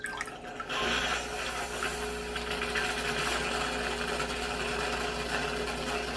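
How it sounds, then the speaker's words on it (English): A Breville Barista Pro espresso machine runs a manual rinse cycle through its group head and shower screen. After a brief click it starts a steady pump hum with water rushing, continuing evenly and close with no talk. "you could run the rinse cycle manually by, let me show you that, just by pressing the double cup, which will clean the group head or the shower screen"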